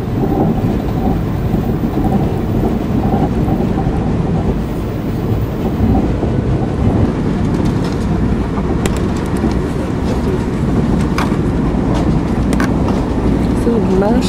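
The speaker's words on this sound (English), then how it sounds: "Train trip up to Boston." Loud continuous rumble and rattle of a train rolling along rails on a trip from Rye to Boston, with occasional sharp clicks and squeaks from the wheels.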